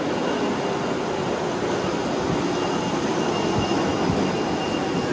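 Large industrial vacuum cleaner running at a car wash in Oman, a loud, steady roar of broadband noise that stays constant throughout, close by and without speech.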